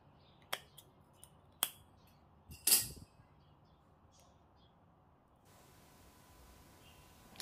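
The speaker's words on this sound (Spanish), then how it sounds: "Y estos cuatro pelos que han quedado aquí los voy a cortar con las tijeras." Scissors snipping stray copper wire strands while crimping an electrical terminal, three sharp separate clicks close by, then quiet room background.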